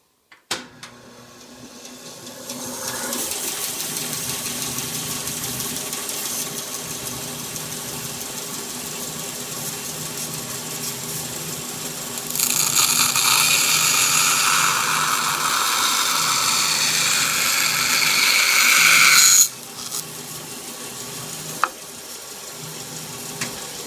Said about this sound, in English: So I'm going to pop on the bandsaw here and make the cut.